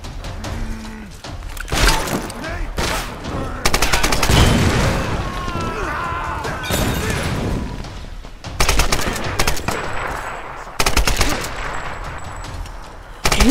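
Gunfire bursts from the action video game Tomb Raider (2013), repeated loud crackling volleys that cut in abruptly at several points, mixed with game effects and a man's muttered speech.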